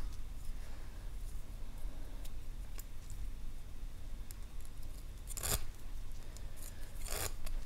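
Knitted wire is pulled through a Lazee Daizee draw plate with a faint, steady rasping scrape, broken by a few sharper snips and two brief louder grating pulls near the end.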